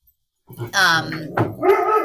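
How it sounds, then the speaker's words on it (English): Several close, loud dog barks in quick succession, overlapping one another, with a brief yip; no one speaks. "Oh my god, my dogs, I'm sorry."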